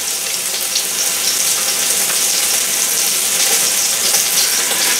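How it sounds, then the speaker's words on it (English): Sliced meat sautéing in an Instant Pot for French dip sandwiches, giving off a loud, continuous close-up sizzle with a bright crackling hiss that holds steady throughout. "Now obviously this takes a minute to go ahead and get all this sauteed up"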